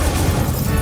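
The Incendio fire spell is cast in the video game Hogwarts Legacy, giving a short, loud, crackling burst of flame that fills the moment alone.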